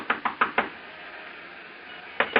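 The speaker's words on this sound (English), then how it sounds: "I stopped in front of room 300 and knocked." Knuckles rap on a hotel room door as a radio drama effect, four quick knocks followed after a pause by two more, close and crisp over a quiet background with no voices.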